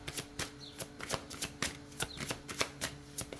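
Oracle cards shuffled by hand in a quiet room, giving a series of soft, close riffling and slapping bursts at an uneven rhythm, with no talk.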